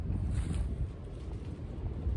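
Wind blowing outdoors on a walk, a steady low rumbling roar with buffeting gusts against the microphone and no talking.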